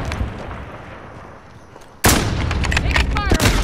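Loud gunfire erupts in a Call of Duty Modern Warfare match, a sudden dense burst of shots and impacts after a quieter stretch of game ambience, with a voice heard faintly.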